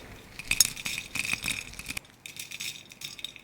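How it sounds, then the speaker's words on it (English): Bread crumbs dropped onto a glass plate: bursts of small tinkling, rattling impacts close by, a cluster early on, a brief gap, then a second scattered shower. "it's not really matching because the crumbles falling all over the glass plate"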